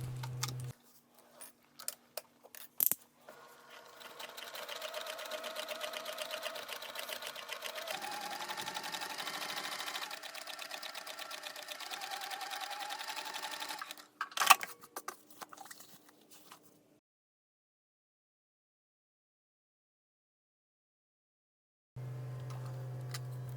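A sewing machine bastes layers of bag fabric together, running in long steady mechanical stitching bursts with a few clicks and handling noises, close by, then stopping into silence.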